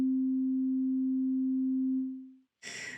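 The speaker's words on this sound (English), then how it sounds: "I'm going to put oscillator 2 on so you can hear that sine wave" A pure, steady synthesizer oscillator sine tone holds alone for about two seconds, then fades out smoothly, followed by a short burst of hissy noise.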